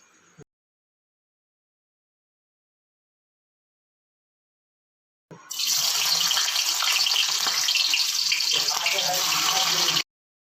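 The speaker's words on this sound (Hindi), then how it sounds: "डला गए प्याज और मिर्चा डला गए, प्याज और मिर्चा डला गए।" Onions and green chillies drop into hot oil in a home kitchen after a silent gap, giving a sudden loud, dense, steady hiss and sizzle that fills the last five seconds without any talk.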